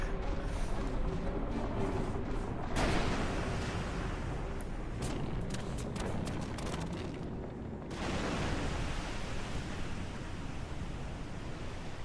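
The Arc Blast spell in the Final Fantasy XII video game bursts in a long, roaring rumble of explosive noise, with a sharper crackling surge partway through before settling back to a steady loud blast.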